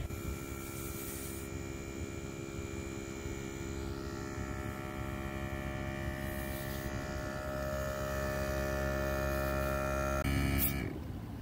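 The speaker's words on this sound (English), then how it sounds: "Bob is airing up the tires right now." A Viair RV air compressor running off the battery to inflate a motorhome's tires, a steady loud electric hum and whine holding constant for several seconds before a brief hiss near the end.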